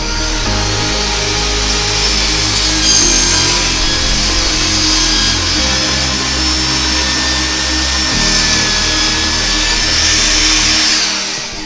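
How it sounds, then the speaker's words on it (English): A table saw with its blade raised makes a partial cut about halfway through the wooden top of a crosscut sled, a loud, steady whining drone that runs unbroken for about twelve seconds with no voices. "I'm going to raise the blade of my table saw up, and we're just going to do a partial cut through"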